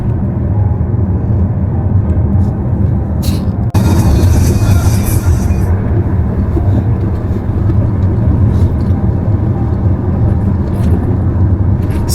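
A car driving along a tree-lined road, a steady loud rumble of engine and tyre noise with a brief hiss near the start, no speech.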